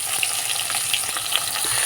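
A rohu fish head fries in very hot oil, giving a dense continuous crackling sizzle with small pops, close up and unbroken, with no one speaking.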